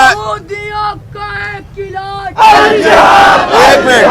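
At a Save Gaza march in Islamabad, a single voice leads a chanted slogan in repeated calls, then a large crowd roars back in a loud, massed response close by.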